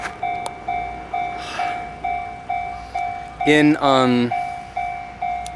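A JR train passes through a small town in Japan, a steady tonal hum with evenly spaced rhythmic pulses throughout, and a voice briefly speaks over it near the middle.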